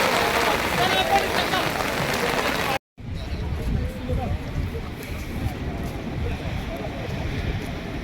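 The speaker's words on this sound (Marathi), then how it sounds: "नाहीतर मग पाऊस भरपूर आला इकडे." Heavy rain hisses loudly at Savlya Ghat, a foggy pass near Devkund waterfall, cutting off for a moment and then returning as a softer, steady wash.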